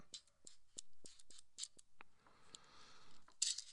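A series of sharp, crisp mechanical clicks, about a dozen in an irregular rhythm, close and quiet, as the angle finder on a Hongdui HD29 sharpening jig snaps into its positive stops.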